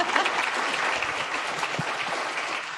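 Steady, full audience clapping throughout, many hands applauding evenly at a moderate distance after a roundtable discussion on cultural innovation and assessment, with no voices rising above it.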